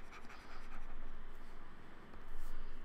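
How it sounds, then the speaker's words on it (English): Soft scratching of a pen or marker writing out a set-theory statement on a surface, continuous strokes with brief gaps, quiet and close, no talking. "So let me write this further down."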